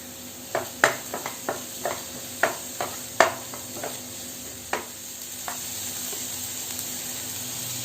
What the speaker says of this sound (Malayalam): ഒന്ന് വഴറ്റി കൊടുക്കുക